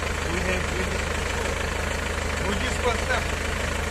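A DEUTZ-FAHR mini tractor of about 40 hp runs at a steady idle, its diesel knock close and constant throughout with no pauses and faint background voices.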